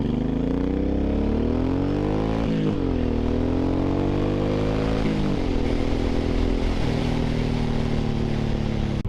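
A Suzuki M109R motorcycle pulls away and accelerates through several gears, its engine note rising steadily, dipping briefly at each shift and climbing again, loud and close throughout with no talking.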